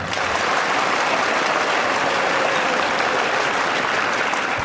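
A hall full of students at a live guidance session breaks into loud, sustained clapping, a thick continuous roar of hands that holds steady throughout and ends abruptly.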